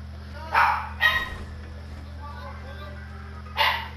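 A dog barks indoors in a room, three sharp separate barks spread over a few seconds, over a low steady hum while someone talks during an online shooter game.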